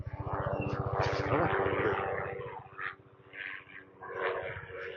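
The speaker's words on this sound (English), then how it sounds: "Helicopter cruising by." A helicopter's rapid rotor thumping passes overhead, loud and steady at first, then fading into the distance with a few faint bird chirps.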